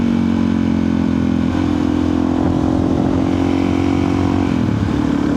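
A Suzuki DRZ 400 supermoto motorcycle runs steadily and loudly close by, its single-cylinder engine holding an even drone with slight shifts in pitch, no voices over it.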